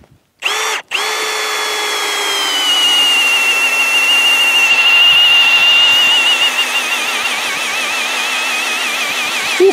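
A Milwaukee M18 Fuel cordless impact drill on speed 1 bores into hard material, rising quickly to a loud, steady high whine that holds for about nine seconds after a brief initial blip.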